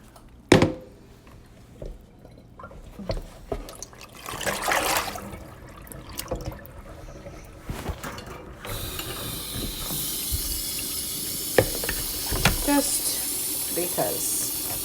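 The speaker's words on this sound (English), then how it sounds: "I think I might do a second rinse on the strawberries and the blueberries." Strawberries and blueberries being rinsed in a bowl in a home kitchen: scattered knocks and handling sounds at first, then tap water runs in a steady hiss with occasional splashes.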